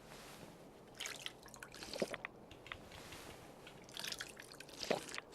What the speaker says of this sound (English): I'm just drinking stuff right out of this filthy pond.